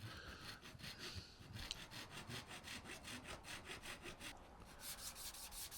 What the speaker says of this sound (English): I just thought I'd just nip that little that millimetre off there with Japanese saw